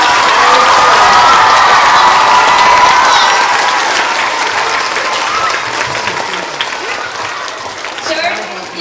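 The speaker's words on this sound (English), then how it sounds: "Abraham Lincoln Elementary School students, let's give Jordan one more big round of applause." Elementary schoolchildren give Jordan a big round of applause in a school gathering, loud massed clapping with some cheering and shouting that gradually fades toward the end.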